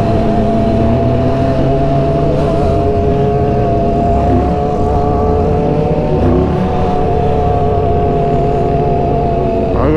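Several motorcycles riding together in a convoy on city streets, loud engines droning and revving close by with rising and falling pitch, no talk.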